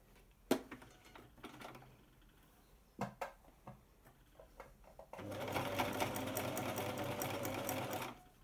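Sewing machine stitching along the edge of a cot bumper bar, joining lining to outer fabric; a few soft ticks and clicks first, then a steady close whirring run of stitching for about three seconds.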